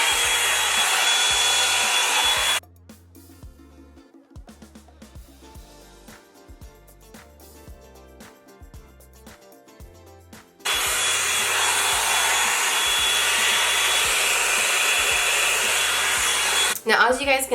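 A Revlon Salon One Step hair dryer blows loudly and steadily at close range while drying hair, cutting off for several seconds of quieter background music, then roaring back on at full strength.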